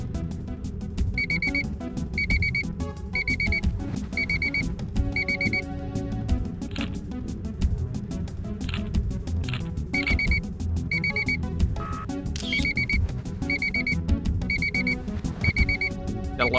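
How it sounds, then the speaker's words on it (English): An alarm clock ringing steadily at close range, sounding in rapid repeated beeping bursts over a dense background of game music and noise throughout. "That alarm is very annoying."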